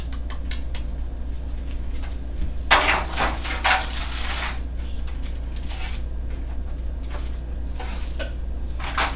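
A metal egg turner scrapes freshly baked cake mix cookies with M&Ms off a pan and drops them into a container, giving several clattering, scraping clinks at close range over a steady low kitchen hum.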